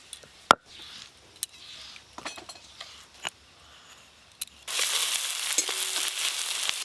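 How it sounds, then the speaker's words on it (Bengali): Quiet clinks and faint taps give way to a sudden, steady sizzle as chopped onions fry in plenty of oil in a pan, the hiss continuing evenly to the end. "পেঁয়াজ কুচিগুলো একটু ভালো করে ভাজা ভাজা হয়ে গেছে"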